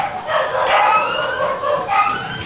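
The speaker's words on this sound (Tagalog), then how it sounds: "rinig pa ang tahulan ng mga alagang aso kasabay ng paglindol" Several pet dogs bark and howl together during an earthquake in the Visayas, in overlapping, wavering cries, loud and close, with a rumbling background.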